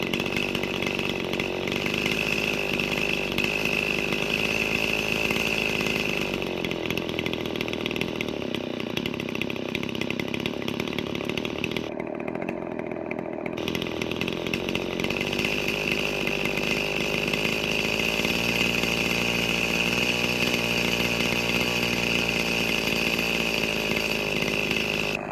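A Stihl FS-76 string trimmer's small two-stroke engine, with a newly installed Hipa carburetor, drones steadily and loudly, its buzzing pitch dipping briefly in the middle before climbing again as the throttle opens, with a lag.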